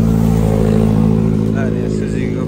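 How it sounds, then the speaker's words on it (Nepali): A motorcycle passing near a shopping centre on a city street in Phuket, Thailand, its engine a loud steady drone close by under busy street noise. "हेर्नु के बाइक आयो"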